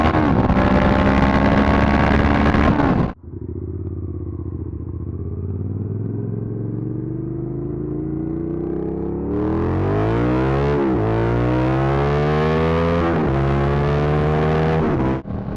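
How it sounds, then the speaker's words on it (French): A motorcycle engine with double ignition revs hard, cuts abruptly, then idles low and climbs through rising revs again, with sharp blips and crackling pops suggesting backfires, loud and close throughout. "Après ça pétarade, c'est vraiment l'architecture moteur qui fait ça"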